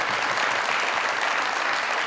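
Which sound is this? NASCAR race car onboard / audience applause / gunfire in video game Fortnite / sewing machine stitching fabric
audience applause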